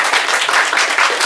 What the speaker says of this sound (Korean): 또 우리 박수 한번 해주세요.